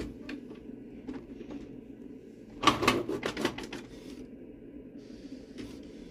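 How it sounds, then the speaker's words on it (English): A Canon Pixma iX6820 inkjet printer prints sample pages, with quiet mechanical clicks and a short burst of rapid ratcheting and whirring in the middle over a low steady hum. "I'm gonna try to print here some samples to show you that my printer is working with the network wirelessly"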